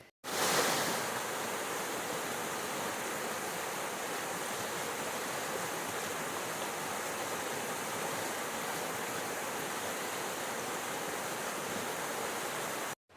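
Steady rushing creek water flows continuously, a full broadband wash with no breaks, close and fairly loud, with no voices.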